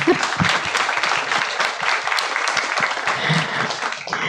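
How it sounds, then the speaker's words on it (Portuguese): Church congregation applauding steadily, a dense wash of many hands clapping throughout, fairly loud and close, with a few voices faintly mixed in. "Palmas para ela"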